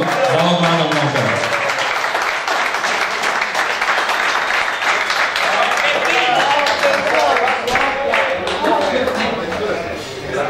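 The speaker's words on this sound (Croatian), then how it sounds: "Molim vas još jedan aplauz za ovog mladog momka." A hall audience gives sustained applause to a young award winner, dense clapping rolling on steadily, with a voice speaking briefly over it at the start.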